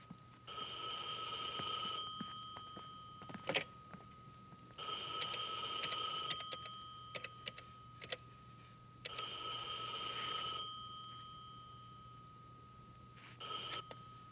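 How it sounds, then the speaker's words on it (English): An old-fashioned telephone bell rings indoors in three long bursts separated by pauses, with small knocks and clicks between rings and a fainter start of a fourth ring at the end. "Don't pick the phone up until I tell you to."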